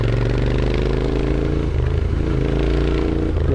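A motorcycle rides along a scenic road in northern Thailand, its engine droning loud and close with a steady throb and slight shifts in pitch as the throttle changes.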